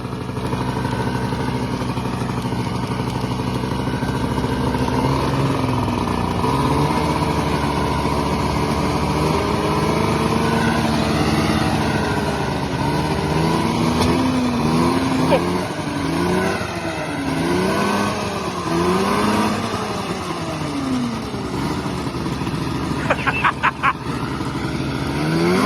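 A 1994 Yamaha VMAX 600 snowmobile engine runs after a cold start, its two-stroke note rising and falling through repeated revs over a steady idle, loud and close, with no talk.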